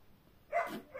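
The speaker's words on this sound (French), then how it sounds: "Natsu, s'il te plaît, arrête d'aboyer." A pet dog gives a short bark or two indoors, brief and moderately close, with a little low background noise around it.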